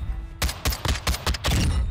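A rapid burst of gunfire from a weapon on a shooting range in the Warzone video game: about seven sharp, loud shots in quick rhythmic succession, each close and punchy, with no talking.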